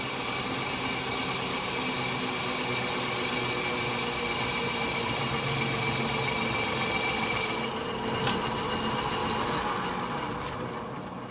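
A metal lathe finishes a flywheel with an ISCAR carbide turning insert, giving a steady, close grinding whir with a high ringing tone that drops away near the end as the cut stops.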